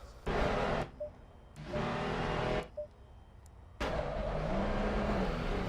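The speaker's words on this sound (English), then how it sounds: "Ceremonial burnouts there by Williams." Race cars doing ceremonial burnouts after a GT3 race in a racing video game: three loud bursts of high-revving engine with tyre screech, separated by short gaps, the last one held to the end.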